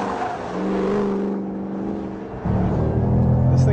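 A 2013 Ford Shelby GT500 accelerates hard out of corners, its engine droning and climbing in pitch, dropping briefly, then surging again near and loud.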